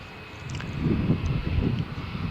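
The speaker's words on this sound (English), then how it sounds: "Lufthansa flight is taxiing for takeoff, destination Munich in Bavaria in Germany" A Lufthansa airliner taxiing for takeoff at Malaga Airport on a stormy morning, a low, steady engine rumble heard from a distance, swelling slightly, with wind noise buffeting the microphone.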